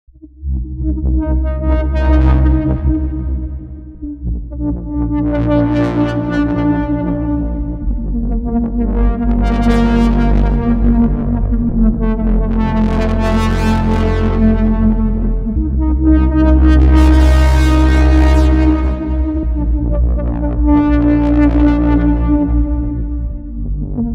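A rich, sustained Diva synthesizer pad preset plays slow swelling chords with deep bass, each chord blooming and fading in turn, loud and alone.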